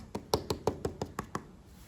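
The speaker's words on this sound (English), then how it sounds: "The render's very drummy" A hand taps repeatedly on hollow, drummy, delaminating render on a building wall, about eight quick dull knocks in an even rhythm, close and fairly quiet with no talk.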